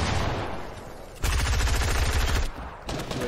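Gunfire in the Fortnite video game during a zone wars match: a noisy stretch, then a loud, rapid automatic burst of evenly spaced shots, a brief lull and more firing.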